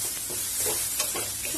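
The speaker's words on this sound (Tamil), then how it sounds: "வெங்காயம் பூண்டு பச்சை மிளகாய் இருக்குல்ல அதை வந்துட்டு சேர்த்திக்கலாம் இதை லேசா வதக்கி விடுங்க" Onion, garlic and green chili sauté in hot oil in a pan, a steady close sizzle broken by soft stirring scrapes.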